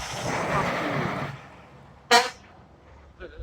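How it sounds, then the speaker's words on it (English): A passing dump truck sounds its horn in a single short loud blast after a stretch of traffic noise, then gives a fainter brief toot near the end. "Stupid ass fucking idiot honking his horn."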